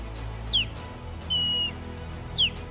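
Osprey alarm calls near the nest: two sharp, descending chirps and one steady, level whistle, spaced apart, faint and alone over a soft background hiss.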